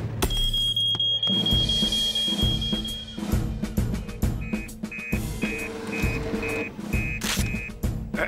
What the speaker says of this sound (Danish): Falsk alarm uden tvivl.